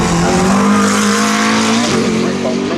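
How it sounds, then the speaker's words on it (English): GT race cars, among them a Toyota Gazoo Racing Supra, roar past at Donington Park, loud continuous engine drone shifting pitch as one car passes closely and fades. "A few more cars taking the checkered flag, including the Toyota Gazoo Racing Supra R."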